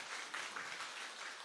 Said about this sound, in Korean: 우리 하민이에게 큰 박수 한번 부탁드리겠습니다